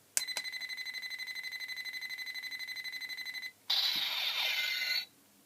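A Kamen Rider Faiz DX transformation belt toy sounds a rapid pulsing beep pattern, then switches to a brief burst of bright synthesized effects before cutting off.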